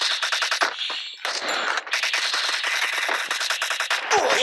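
Video-game gunfire, a rapid automatic burst of shots in tight repeated volleys with metallic clinks, loud and close, pausing briefly before firing resumes, no speech over it.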